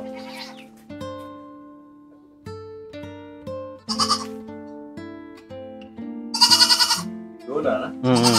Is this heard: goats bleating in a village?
yes